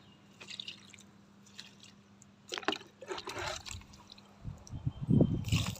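Liquid is poured onto a hibiscus plant, giving soft scattered drips and splashes that grow into a denser, louder wet pour near the end.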